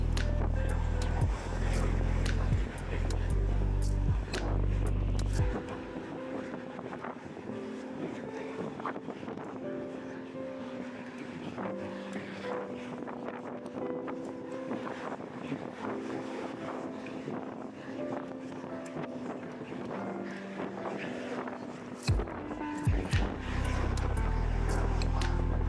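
Riding a two-wheeler on the road with heavy wind buffeting the microphone, a steady rushing roar that eases in the middle stretch before gusting loud again, with road rumble underneath.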